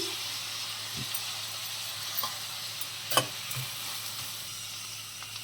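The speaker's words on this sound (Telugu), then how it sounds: "మిరపకాయలు కూడా వేసేసుకుందాం కరివేపాకు వేసేసుకుందాం" Dried chillies and curry leaves fry in hot oil with a steady, close sizzle, broken by a few soft stirring knocks and scrapes.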